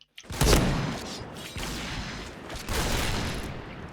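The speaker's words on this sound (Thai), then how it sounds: "เนี่ยมันยิงหัวกูคืนวะ" Gunfire in the video game Point Blank: bursts of rapid shots with booming reports, a loud volley near the start and more sustained firing later, with no voices.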